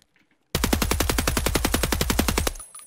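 A 7.62 MDR rifle fired while crouched in Escape From Tarkov with M62 ammo, a rapid full-auto burst of about twenty loud, close, evenly spaced shots lasting two seconds, ending with a brief ringing tail.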